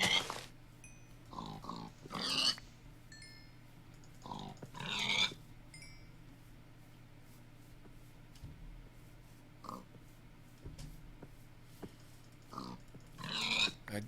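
Pigs oinking and grunting in the video game Minecraft, several separate short bursts of squeals spread across the stretch with quiet ambient game sound between them and no talk.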